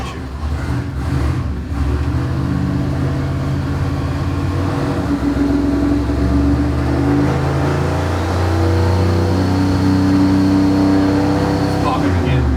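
Car engine running on a dyno, a loud steady idle and rev with a low droning rumble and occasional pops, while people talk over it.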